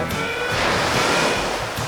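Sea waves crash steadily onto a beach after a typhoon, a loud, continuous roar of surf and spray, close and unbroken.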